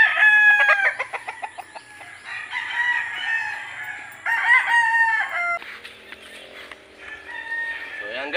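Chickens on a farm clucking busily and close, with a rooster crowing loudly over them in drawn-out calls; the flock keeps cackling throughout with no clear talk.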